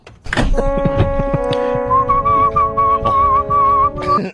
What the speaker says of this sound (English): then he whistled along to the CD